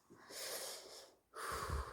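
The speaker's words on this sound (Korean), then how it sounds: "그 다음에 편안하게 숨을 내쉽니다" A person exhales slowly and relaxedly while demonstrating metered-dose inhaler use, two soft breathy rushes of air separated by a short pause, close and quiet.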